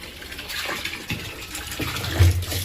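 Water sloshes and spills from a shark fish tank while fish are being caught by hand, a close, splashy gush that builds toward the end, with no speech.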